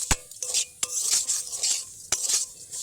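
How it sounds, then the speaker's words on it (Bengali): Semolina being stirred as it fries lightly in white oil in a pan: sharp spoon clacks against the metal at irregular intervals over a soft, continuous sizzle. "যত সময় না সুজিটা হালকা ভাজা হয়ে যাচ্ছে ততক্ষণে কিন্তু হালকা আছে এটাকে আমি নাড়তে থাকবো"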